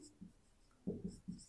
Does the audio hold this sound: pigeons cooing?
no